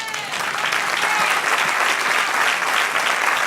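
A church congregation applauds during a Spanish-language sermon, with loud, sustained, dense clapping from many hands filling the whole room at an even intensity.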